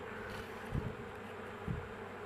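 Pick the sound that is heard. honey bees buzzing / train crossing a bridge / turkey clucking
honey bees buzzing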